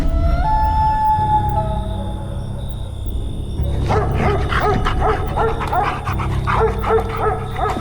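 A dog barks in an animated horror cartoon, first whining and whimpering with high tonal cries, then breaking into a loud, close run of repeated barks over a low musical drone.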